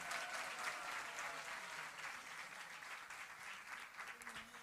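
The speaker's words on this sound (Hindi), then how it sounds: "जोरदार तालियां प्लीज।" An audience applauds at a book release event, steady clapping from a crowd that holds strong for several seconds and then slowly thins out.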